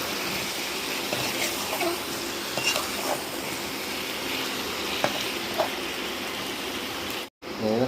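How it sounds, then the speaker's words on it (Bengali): Meat mixed with spices sizzles steadily in a pan, a continuous close frying hiss with occasional stirring clinks and scrapes, while a person talks over it. "মাংসটা দিয়ে নিলাম, ভালো করে মাংসটাকে মশলার সঙ্গে ভালো করে মিশিয়ে নিলাম।"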